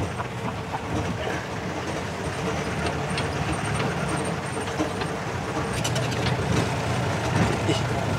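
A jeep drives off-road on a forest safari with a steady rumbling drone and rattling bumps throughout, while voices talk faintly over the noise.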